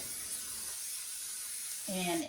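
Cooking spray hisses steadily onto a stove pan before venison is cooked, a soft, continuous spray lasting about two seconds, with a voice briefly heard near the end.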